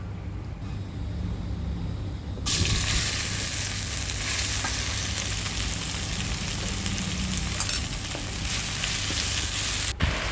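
Pounded chili and garlic hit hot oil in a wok, bursting into a loud, steady sizzle after a quieter opening, with scraping stir-fry movements running through to the end; no talking.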